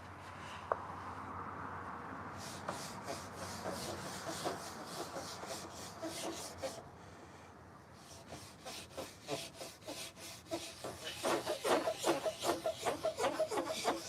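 Cloth rubbing finish into the top of a wooden coffee table, a soft brushing scrape repeated in quick back-and-forth strokes that grow busier and louder toward the end, close and alone.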